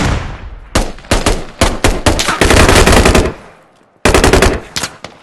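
Rapid bursts of automatic gunfire in the military shooter Squad, loud and close, several short volleys followed by a long sustained burst, a brief pause, then another burst, with no talking.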